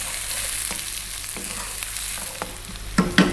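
Onion frying on high heat and stirred constantly, a steady close sizzle with scraping utensil strokes and a couple of sharper knocks near the end, no talking.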